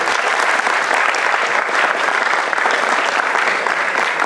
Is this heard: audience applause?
yes